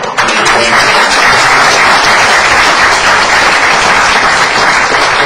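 A lecture audience breaks into loud, continuous applause, a thick, even roar of clapping hands that holds steady throughout.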